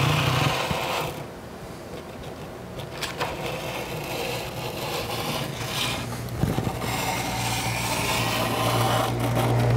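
A blade trims window tint film along the edge of a car side window, giving close, uneven rasping and rubbing scrapes with short pauses between strokes.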